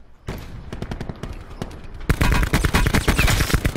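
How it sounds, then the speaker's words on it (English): Rapid bursts of gunfire in a shooter video game, a quicker run of shots at first, then louder, denser automatic fire from about two seconds in, with no talk over it. "he's already shooting at me"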